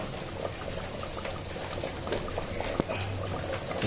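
Water is poured into a cooking pot of mutton and potatoes, a soft continuous liquid splash and trickle over a low sizzling background, fairly quiet and close.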